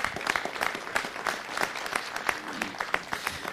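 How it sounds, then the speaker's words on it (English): Dense, steady applause from a large crowd at a city council meeting, many hands clapping at once at an even level from start to finish. "Let's give her a round of applause as she comes."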